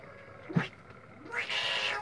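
A cat meows in a rural backlands home in Brazil's Northeast: a short cry, then a longer drawn-out meow, fairly close over quiet background noise.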